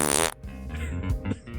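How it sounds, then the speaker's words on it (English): A fart sound effect drenched in reverb blares loudly, a buzzy rasp followed by a long, wobbling echoing tail. "the fucking fart reverb"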